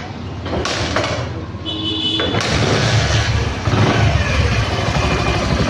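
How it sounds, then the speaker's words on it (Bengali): A 2014 Bajaj Platina 100cc motorcycle with 42,000 km on it idles loudly and steadily close by with a rough, continuous exhaust drone through the silencer, the throttle left free. "গাড়ির কিন্তু ফ্রি অ্যাক্সিলারেটরের ইঞ্জিনের সাউন্ড, ফ্রি অ্যাক্সিলারেটরের সাইলেন্সারের।"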